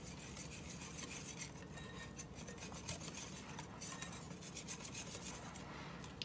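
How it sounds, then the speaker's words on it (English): Homemade ranch dressing being mixed from scratch: a soft continuous scraping and stirring of a utensil against a bowl, with faint clinks, steady and quiet throughout. "And just give that a mix."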